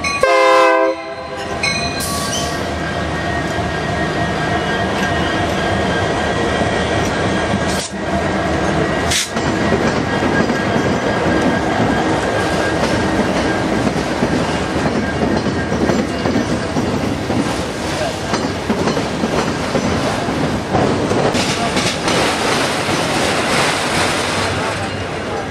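Two Union Pacific trains pass close by at Fostoria, Ohio, opening with a loud horn blast, then a continuous rumble and rhythmic clickety-clack of wheels over rail joints that persists throughout, with faint voices.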